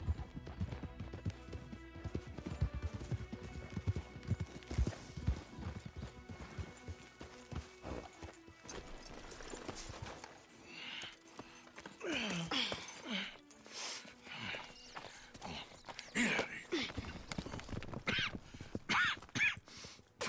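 Horses in Red Dead Redemption clip-clopping at a steady walk, hooves close and rhythmic, with occasional snorts and a whinny, followed by quieter movement and scattered sharp thuds.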